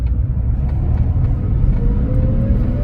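A 1986 Porsche 930 Turbo engine accelerating hard in first gear, a loud close rumbling roar with a rising whine, heard alone.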